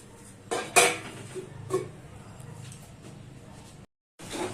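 A metal pot lid is handled during home cooking of a Malabar spinach dish, giving a few sharp clanks in quick succession and a later single clatter over a quiet kitchen background, with a brief silence near the end.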